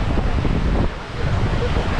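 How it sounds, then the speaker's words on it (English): Blustery storm wind on the Isle of Skye, a loud steady rush battering the microphone that briefly drops in force partway through before building again. "It's also very windy, quite stormy."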